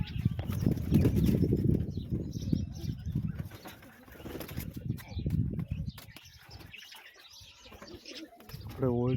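Pigeons coo softly in a loft built for the birds, with occasional chirps and a flutter of wings, while a person talks over them for much of the time.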